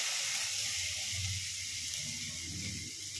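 Garlic sizzling in hot oil left over from frying chicken, a steady, close, loud hiss and crackle with no talking over it.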